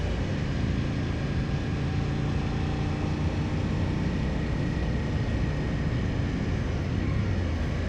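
Aprilia Tuono 1000 V-twin motorcycle engine at low revs, a steady, continuous loud rumble heard close up while riding, with broadband wind noise over it and no talk.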